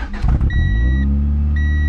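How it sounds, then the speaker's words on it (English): A car runs after an alternator and fuel relay replacement, its engine a steady loud rumble close by, with a brief rev at the start and a faint electronic chime tone above it. "a running car"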